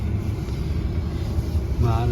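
Gusty wind in minus 9 degree Canadian winter cold buffets the microphone in a constant low roar, with a brief tonal hint near the end.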